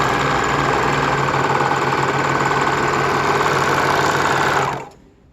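Loud, steady whirring and rapid clatter of a sewing machine stitching fabric strips, holding even for several seconds and then stopping abruptly.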